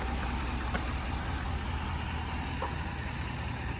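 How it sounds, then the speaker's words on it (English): A 2023 Ford F350 King Ranch with the 6.7 liter Power Stroke diesel idles steadily, a low, even engine drone heard close and quiet with no voices. "Super quiet engine."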